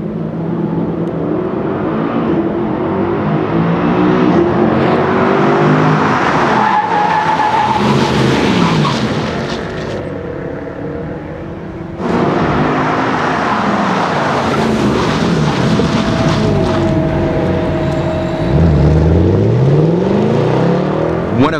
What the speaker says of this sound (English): One of the most fun exercises is the sliding, the drifting, and how you have to use the steering wheel and the throttle to oversteer.